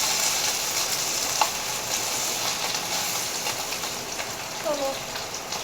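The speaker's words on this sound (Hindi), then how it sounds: "फ्राई तो हो रहा है।" Food, likely potatoes, frying in a pan with a dense, steady crackling sizzle that continues throughout, a couple of light utensil clicks and a brief tonal squeak near the end, and no speech.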